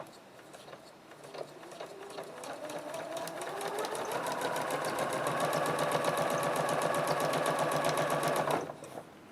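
Close up, a sewing machine runs a steady, rapid stitch through skirt lining fabric, speeding up and holding a continuous whir for several seconds before stopping abruptly.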